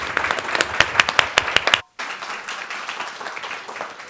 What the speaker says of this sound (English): How about another round of applause for our moderator and panelists?